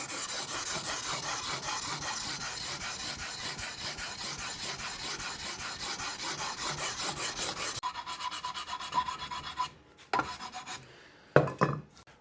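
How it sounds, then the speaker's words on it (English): Fine sandpaper rubbing steadily back and forth across the wooden body of a Hohner Rockwood Pro 250 guitar, a close, continuous rasp that breaks into shorter, choppier strokes near the end. "And now I'm going to go through with some much finer sandpaper."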